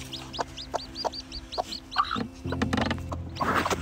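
A protective mother hen clucks near newly hatched chicks, giving a quick run of short repeated clucks, then louder, harsher fowl calls close by.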